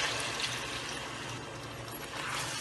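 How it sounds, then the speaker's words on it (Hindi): Two cups of water pour steadily into a cooking pot of aloo gosht with meat and tomatoes, a continuous close splashing stream throughout. "और 2 कप डालेंगे पानी।"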